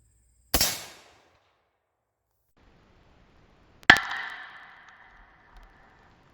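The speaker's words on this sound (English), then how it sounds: "First we'll be firing the Finnish Mosin Nagant." A Finnish Mosin Nagant rifle fires once and a few seconds later the bullet strikes an AR500 steel plate with a loud ringing metallic clang that hums away slowly, both heard at a distance.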